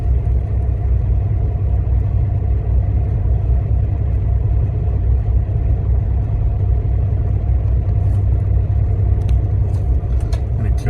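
A box truck engine idles with a loud, steady low rumble that continues unchanged throughout, close by, with a few faint clicks toward the end and no clear speech.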